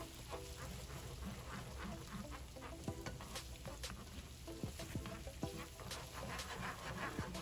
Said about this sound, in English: Just going to add 2 eggs to this and get them in there real good.